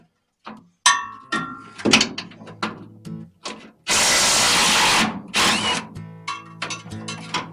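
A power tool runs bolts out of a trailer bumper during an S10 hitch install, with short bursts of whirring and ratcheting, one long steady run in the middle, and clanks of metal between them.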